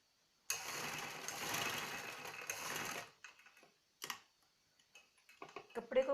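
A sewing machine stitches a small square piece under the back neckline of a stretchy shirt, running in one steady burst of about two and a half seconds, followed by short stop-start bursts and faint handling noises.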